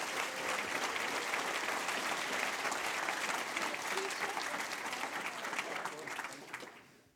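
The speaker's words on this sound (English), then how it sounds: "give him a round of applause" A conference audience applauds a panelist after a talk, steady dense clapping filling the room for several seconds and tapering off toward the end.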